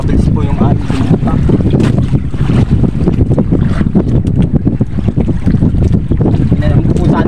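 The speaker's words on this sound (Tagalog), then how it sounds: "Pabilis po yung ating bangka." A fishing boat motor roars steadily as it speeds up while wind buffets the microphone, loud and continuous, with a voice speaking over the noise.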